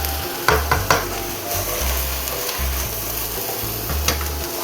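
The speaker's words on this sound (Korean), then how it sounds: "자글자글 기름이 나오기는 하는데 생각보다 없어요" Pork, scallions, onion and garlic stir-fry in a pan, a continuous crackling sizzle punctuated by a few scraping stirs, with a steady low rumble running underneath.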